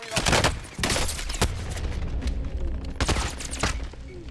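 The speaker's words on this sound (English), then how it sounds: "I called a cluster bomb on it." A cluster bomb strike in Call of Duty Warzone unleashes a rapid, continuous barrage of loud, crackling blasts and booms, with several sharper peaks standing out over the dense roar.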